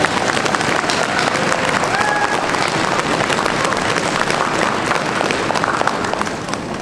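An outdoor crowd in Stockholm's Old Town gives sustained, dense applause to welcome the county governor Sven-Erik Österberg at a living Advent calendar event, with steady clapping and some faint voices mixed in throughout.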